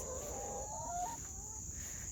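Backyard chickens in a garden clucking and cackling nearby, a short burst of rising, warbling calls over a steady high background hiss.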